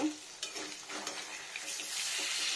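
Paneer sizzles in a hot pan just after being flipped, a steady close frying hiss with a few soft scraping stirs, no voices.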